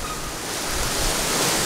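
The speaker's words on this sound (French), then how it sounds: "je sais même pas du tout si vous m'entendez bien parce qu'avec le vent" Loud rumbling whoosh of wind buffeting a microphone, continuous and close, swelling slightly toward the end with no speech.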